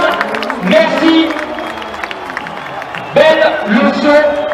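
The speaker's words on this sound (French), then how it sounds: "applaudissements, faites du bruit" A crowd at the Bol d'or 2018 motorcycle event applauds and cheers for Stéphane Paulus, with loose clapping and shouts under an announcer's voice.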